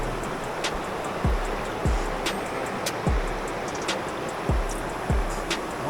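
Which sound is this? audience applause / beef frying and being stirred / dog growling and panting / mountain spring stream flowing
mountain spring stream flowing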